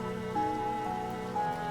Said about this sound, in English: my feeble voice is overpowered by the merciless storm that swirls around us